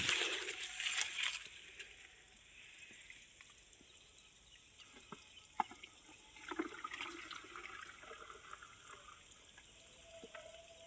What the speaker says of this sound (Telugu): పంచితాన్ని దీన్ని కూడా అదే విధంగా మనం డ్రమ్ములో పోసుకోవాలి